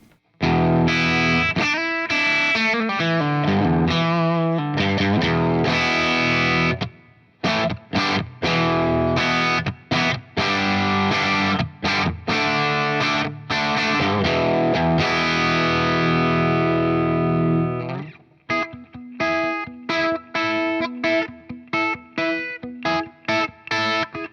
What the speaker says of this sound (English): Oh, there's a nice reverb going. Let's go more reverb.